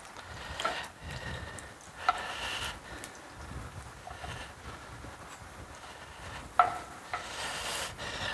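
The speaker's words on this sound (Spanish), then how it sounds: "La rebanada de pan también, que la ponemos aquí, que se nos dore un poquitín" A slice of bread frying gently in a pan while cooking a goat stew: a soft, steady sizzle hisses throughout, with a few faint clinks and stirring noises rising above it.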